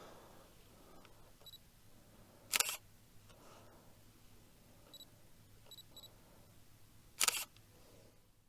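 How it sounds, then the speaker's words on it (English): Two crisp mechanical shutter clicks from a Canon EOS 350D DSLR camera, spaced several seconds apart and close-up, with faint small beeps in between over a quiet background. "The shutter sound is exactly the same as on the 400D."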